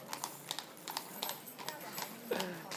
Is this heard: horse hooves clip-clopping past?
yes